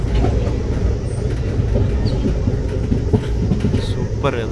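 A passenger train runs on rails on a journey out of Bangalore, giving a steady, loud rumble of wheels and carriage noise with faint rhythmic clatter throughout and no clear pauses.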